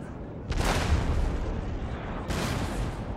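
Artillery fire in a Napoleonic-era battle at Waterloo in Napoleon: Total War, with two loud booming volleys, the second about two seconds after the first, over a continuous low rumble of battle.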